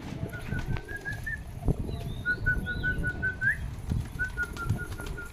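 Pigeons gather around scattered millet grain in a rooftop pigeon setup during the rainy season, their repeated coos and whistling calls rising over a busy rumbling background, with occasional wing flaps and soft pecking close by.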